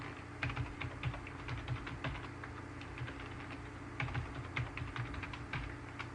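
Typing on a computer keyboard while entering a password during a CentOS 6 Linux install, quick irregular runs of clicky keystrokes with a brief pause, close and fairly quiet over a low steady hum.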